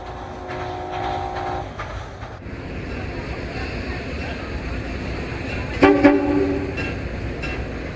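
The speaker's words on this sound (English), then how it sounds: "the diesel pulls the train ahead to spot the cars at the loading point" A diesel locomotive pulls a train along steadily with engine drone and rail noise, a horn sounding early and again briefly later.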